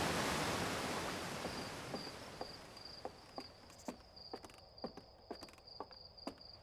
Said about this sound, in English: It's very loud, the waterfall.